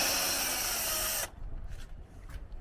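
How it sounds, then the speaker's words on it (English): A power drill works on a Fiamma F45L awning leg knuckle connection, giving a loud steady whir close by for just over a second before cutting off, leaving faint knocks and handling sounds. "can you pass me the drill, Carol?"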